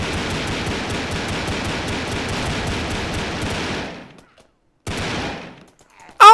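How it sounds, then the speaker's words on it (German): Rapid bursts of automatic gunfire from the blocky shooter game Brick Force, a dense rattling volley for about four seconds, then a short second burst after a pause and a sharp final shot. "da fallen aber ordentlich Schüsse"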